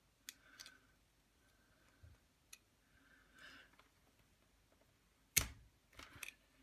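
Leatherman multitool pliers cut through something, a quiet series of small ticks and clicks building to one sharp, loud snap, followed by faint handling noises.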